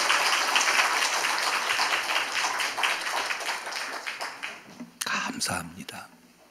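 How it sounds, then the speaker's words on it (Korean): A church congregation claps together after a Korean Easter Sunday scripture reading, a dense, steady wash of applause that fades out and gives way to someone speaking near the end. "영광의 박수 올려드리겠습니다"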